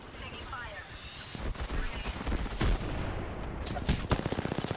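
Rapid gunfire rattles in an Apex Legends match, building into dense bursts of shots that dominate toward the end, with game sounds and chatter around them.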